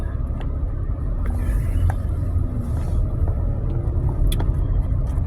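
Steady low rumble of a car interior on the move, constant road and engine drone with faint clicks and no talking.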